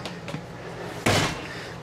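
A door on a new 2022 Grand Design Solitude 373FB-R fifth-wheel RV swings shut with a single loud thud near the middle, preceded by a couple of faint knocks and followed by quiet room tone.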